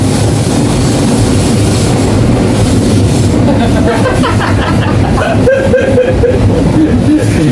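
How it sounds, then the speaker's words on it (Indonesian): A train rolls past on the rails in a steady, loud rumble that fills the whole stretch, with rhythmic wheel clatter and some squeal building toward the end. It is close by and no one talks over it. "Kereta guys, kereta."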